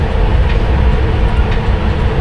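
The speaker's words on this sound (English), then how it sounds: "You're getting plenty of choo-choo action at the moment." Loud, continuous rumble of a London Underground Piccadilly line train running on rails, heard from the rear cab, with a deep rolling drone and faint rhythmic clatter and no talk.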